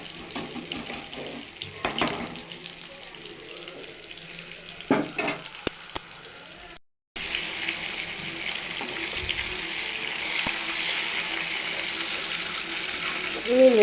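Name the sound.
fish frying in a pan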